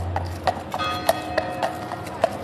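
Horse hooves clip-clop on hard ground at Horse Guards, a steady series of sharp, close hoof strikes over a soft outdoor background.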